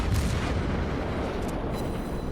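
Naval guns firing armor-piercing shells from a warship in World of Warships, a deep rumbling boom at the start that rolls into a continuous low roar, loud and without voices.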